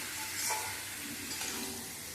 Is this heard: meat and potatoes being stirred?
yes